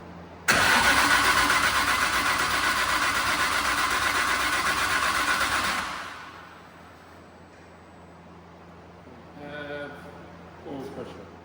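An RB35 engine cranks and fires up loudly, running at a high roar for several seconds before settling to a lower idle; a voice talks briefly near the end.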